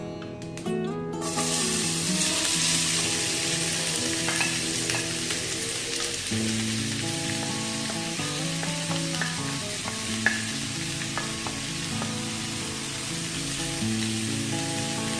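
Sliced onions frying in a couple of tablespoons of hot oil for a Goan prawn chilli fry, a loud steady sizzle with occasional stirring clatter throughout, no talking.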